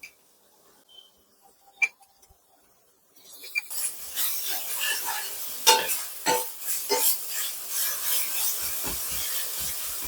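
Ginger garlic paste hits fried onions in a pan for a ridge gourd and prawn curry: after a near-quiet start with a few knocks, a loud sizzle rises and continues with rubbing stir scrapes.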